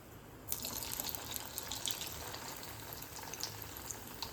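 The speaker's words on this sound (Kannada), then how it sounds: "ಸೋಯಾಬೀನ್ ಒಳ್ಳೆ ರೆಡ್ ಕಾಯಬೇಕು, ಅಲ್ಲಿ ತನಕ ಹೀಗೆ ಫ್ರೈ ಮಾಡುವ" Soya bean chunks fry in hot oil in a home kitchen, giving a dense, continuous sizzle and crackle with scattered sharper pops, steady and fairly close.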